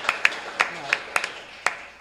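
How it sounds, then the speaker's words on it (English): A handful of scattered, separate handclaps from the audience at a New Hampshire Democratic gubernatorial forum, about seven sharp claps spread unevenly over two seconds with no sustained applause. "You can clap for that."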